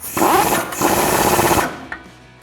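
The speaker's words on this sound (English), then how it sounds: "I'm gonna just put my impact gun on the back here" An impact gun tightens a 24mm nut on a 2019-2023 RAM 1500 while a Rough Country 3.5-inch suspension lift is fitted: one loud, close, rattling burst of about a second and a half, then it stops with a brief knock afterward.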